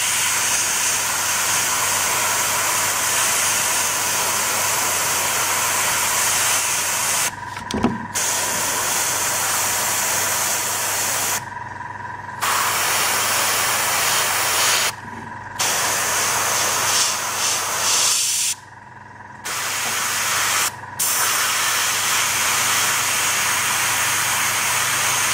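An airbrush sprays paint onto a miniature in a continuous close hiss that runs almost the whole time, broken by several brief pauses where the trigger is released, with no talking.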